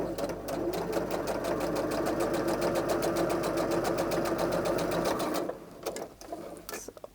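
Sewing machine running steadily as it top stitches a quilted biker-style jacket, a fast even mechanical chatter lasting about five seconds before it stops and a few handling clicks follow.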